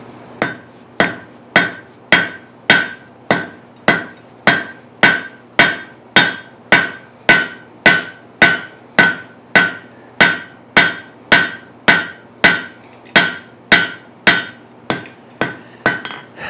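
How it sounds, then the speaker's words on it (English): A hammer strikes a 1/2 inch steel bar being forged for a trivet, about thirty loud, evenly spaced ringing blows close at hand, each with a bright metallic ring. "I'm going to start hammering this out"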